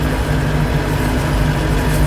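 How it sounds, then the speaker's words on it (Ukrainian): A tractor engine runs steadily while ploughing a field at night, a loud, continuous low rumble with a constant hum and no speech. "Трактор вже працює відмінно."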